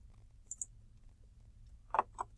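Computer mouse clicking at a desk: a quick pair of light clicks, then a louder double click about a second and a half later, alone over a faint steady room hum.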